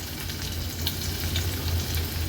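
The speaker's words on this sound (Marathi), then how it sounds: "चार ते पाच लसणाच्या पाकळ्या आपण फोडणीला घालणार आहोत" Four or five garlic cloves frying in hot oil, steady sizzling and crackling, continuous and fairly close, with no talking.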